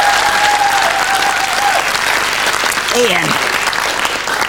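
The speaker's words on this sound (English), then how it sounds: "Round of applause for Alison," A studio audience at a television game show applauds a contestant with steady, loud clapping that runs the whole time, and a host speaks briefly over it.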